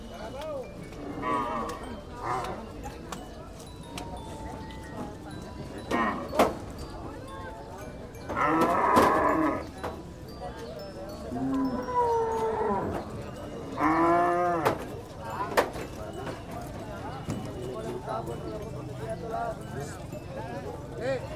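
Water buffalo low repeatedly at a busy livestock market, with several drawn-out moos and some hoof clatter mixed into steady chatter from people nearby.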